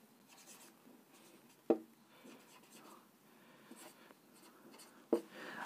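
Chalk or marker strokes write the word Celsius on a classroom board, a scratchy close sound with two sharp taps where it meets the surface, and faint voice traces in the background.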